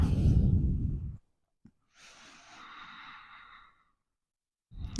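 Slow, audible breathing during a hatha yoga pose: a faint drawn-out exhale of a few seconds, alone and close, following a spoken instruction and before talking resumes.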